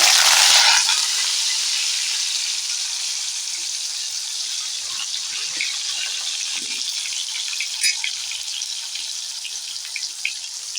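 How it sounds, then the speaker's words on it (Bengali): Potatoes dropped into hot oil over freshly tempered spices, a bright close-up sizzle that flares at the start and then settles into a steady crackling hiss with small pops. "ফোড়নটা হয়ে গেছে এতে আমি আলু দিয়ে দিলাম"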